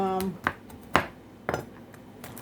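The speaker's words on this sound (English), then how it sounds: "So I'm just chopping up my pecans right now." Pecans being chopped with a knife on a board for oatmeal cookies, giving five sharp, evenly spaced knocks about half a second apart, close and fairly loud, with a brief tonal ring at the start.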